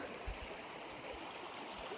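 Quiet river water flows and trickles steadily at a sea-run trout fishing spot, a soft continuous wash with a few faint low thumps, no voices.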